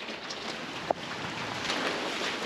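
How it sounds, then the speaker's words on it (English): Heavy rain pours steadily during a storm, a dense continuous hiss of falling water with one brief sharp tap partway through. "we had like a foot of rain in a few hours, hectic storm."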